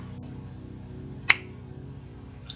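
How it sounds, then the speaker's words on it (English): A single sharp finger snap rings out near the middle, close and crisp, over a quiet steady background hum in a calm meditation setting. "the moment you hear me snap my fingers"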